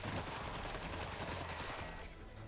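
Turrets in Fallout 4 firing rapid automatic bursts, a dense rattling stream of shots at fairly low level that continues for about two seconds, then drops away.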